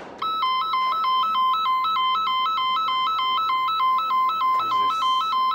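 A Japanese railway crossing emergency stop button sets off a loud electronic alarm: a steady two-tone warble that alternates rapidly and evenly, close by and sustained with no pauses, over faint background noise.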